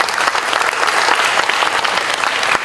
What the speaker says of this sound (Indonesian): Udah sebenarnya tepuk tangan.